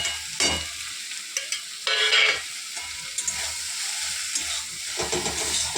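Black cumin seeds crackle and sizzle in hot oil in a wok, a loud spitting fry broken by sharp stirring scrapes and bursts.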